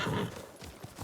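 Horse hooves clip-clopping at a gallop in the video game Ghost of Tsushima, with a whinny, close and fairly loud, a short burst of rhythmic hoofbeats.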